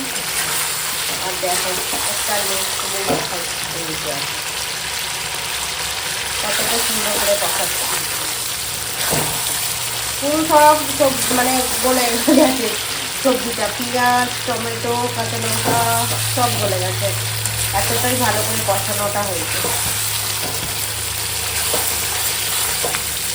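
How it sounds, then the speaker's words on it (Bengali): Meat being stirred and slow-fried down (kosha) in a pan with a little water, a steady sizzle with scraping stirs throughout, while a voice talks over the cooking. "বন্ধুরা মাংসটাকে একদম সুন্দর করে কষাচ্ছি"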